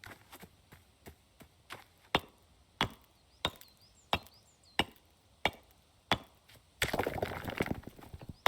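A tool strikes a plant again and again in the survival game Rising World, giving a steady series of hollow clunking knocks, clear and close, ending in a louder rustling, crunching burst.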